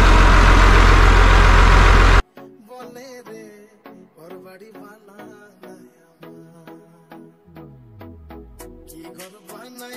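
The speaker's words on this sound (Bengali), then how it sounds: "আমাদের লঞ্চ এখন ছেড়ে দিয়েছে।" Engine of a river launch boat departing on a Sundarban tour, a loud rumbling roar for the first two seconds that cuts off abruptly, followed by quieter droning mechanical tones and a falling low hum.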